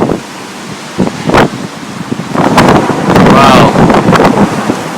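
Strong typhoon wind gusts buffet the microphone and rattle signboards in loud, roaring surges, with a short exclaimed voice near the start.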